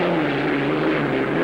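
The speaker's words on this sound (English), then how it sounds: "Listen to the sound of the second place boat." The hydroplane racing boat Miss Smirnoff, a V-tail Flying Wedge with Rolls-Royce engines, races at the 1968 Detroit Gold Cup, giving a steady loud droning engine roar heard alone.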